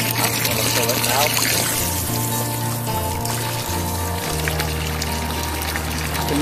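Evian spring water pours into a bottle in Chamonix as a continuous splashing trickle, heard under a droning melody that shifts pitch every second or so.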